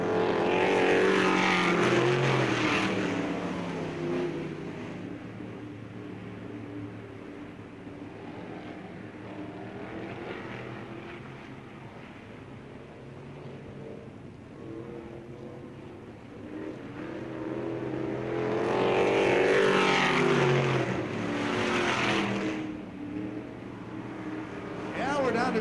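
Race cars roar past at Bureau County Speedway late in a race, their engines rising loudly as they pass close, fading into a distant hum on the far side of the track, then swelling again, heard under a radio announcer's commentary.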